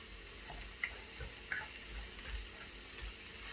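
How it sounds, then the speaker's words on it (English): Onions fry with two bay leaves in a pan for an eggplant filling, a faint, steady low sizzle with a couple of soft ticks and light stirring, no voices. "When we fry onions, it's good to put 2 bay leaves"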